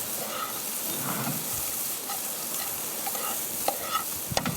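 Monkfish fries in a pan with a soft, continuous sizzle, ending with a few small clicks and taps near the end.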